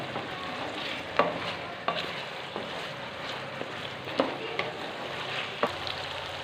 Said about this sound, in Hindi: आलू मैंने से जल्दी डाल दिए हैं कि इनको थोड़ा सा फ्राई कर लूँगा